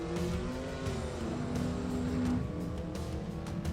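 Third-generation Pontiac GTA drag car launching at a drag strip, its front tires lifting through the beams, with a loud sustained engine roar and steady heavy noise throughout.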